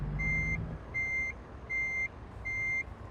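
A reversing beeper on a truck in American Truck Simulator sounds four evenly spaced electronic beeps over a low engine rumble, clear and fairly close, with no talking.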